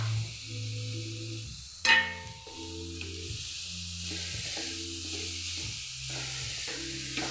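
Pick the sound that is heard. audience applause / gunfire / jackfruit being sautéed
jackfruit being sautéed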